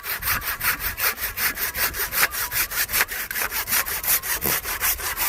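A handsaw cuts through a grapevine branch during winter pruning in a vineyard, with steady back-and-forth rasping strokes at a brisk, even rhythm, close and clear without talk.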